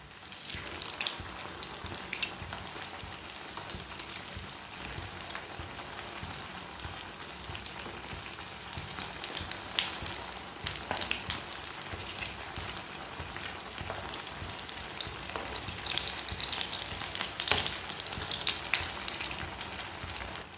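Egg tikki shallow-frying in a little oil, a soft, even crackling sizzle like light rain that runs steadily throughout at moderate, close range with no voices.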